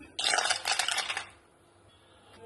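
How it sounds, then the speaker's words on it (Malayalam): A quick burst of clinking and clattering as ice cubes tumble into a drink, fading into near silence after about a second. "ഇതിലേക്ക് കുറച്ച് ഐസ് ക്യൂബ് ഇട്ട് കൊടുക്കാം"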